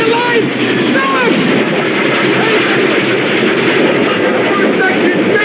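A train approaches on the track in a film scene, a steady loud rumble and rattle of rail cars filling the whole stretch, with faint squeals above it.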